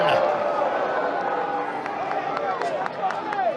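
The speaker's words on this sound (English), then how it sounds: "The razzing coming up from a near capacity crowd." Near-capacity Auburn crowd at a college baseball game against LSU razzing loudly, a dense, continuous roar of voices with scattered shouts, under a broadcaster's commentary.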